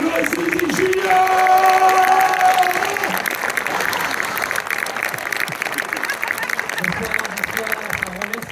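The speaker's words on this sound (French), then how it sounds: "on garde l'énergie sous vos applaudissements énergiques" Energetic audience applause at a film premiere in Orléans as the director is welcomed, sustained crowd clapping with some cheering, while a voice carries over the opening seconds and the clapping continues underneath.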